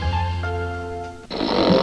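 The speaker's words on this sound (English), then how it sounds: "just catching a few winks. It's Sing and Snore Ernie" A Sing and Snore Ernie toy lets out a drawn-out, buzzing snore, a droning inhale followed by a sharp, breathy exhale, loud and close.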